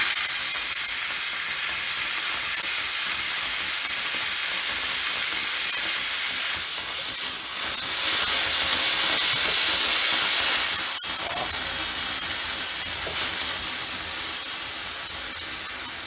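Two garment steamers, a US Steam Falcon Plus and a McCulloch 1375, run together at full steam, giving a steady, loud, close hiss that holds throughout with a brief dip partway and a short click near the end.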